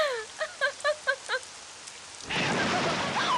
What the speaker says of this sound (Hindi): इस तरह जब बिजली कड़कती है